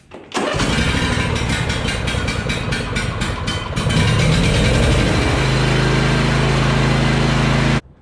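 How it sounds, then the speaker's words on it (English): A John Deere D140 riding mower engine cranks with a rapid starter rhythm, catches and settles into a steady, loud close-up idle that runs alone until it cuts off at the end. "we're going to go ahead and fire up the mower and warm up the engine oil"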